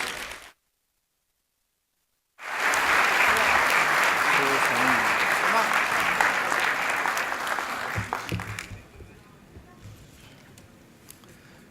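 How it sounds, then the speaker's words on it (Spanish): After a brief silence, an audience at a digital technology summit bursts into loud, dense applause for Chile's president, sustaining it for several seconds before it thins out and fades. "Un aplauso para él, por favor."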